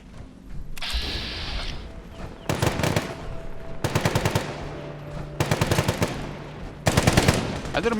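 Bursts of automatic machine gun fire from enemy gunners in the video game Life in the Ruins, several loud rapid volleys repeating across the scene with short gaps and a background drone.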